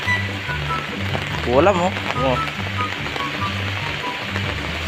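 Steady rain falls outdoors on a muddy day, a constant close patter with a low hum underneath, while a person speaks briefly over it.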